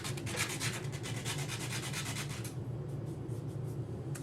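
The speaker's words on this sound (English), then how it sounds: "There's another bump on the ink pen that I didn't notice the first time around. So let me sand that off." A small bump is sanded off a UV resin ink pen with quick, rhythmic back-and-forth rubbing strokes, soft and close, stopping after about two and a half seconds and leaving faint quiet rustling.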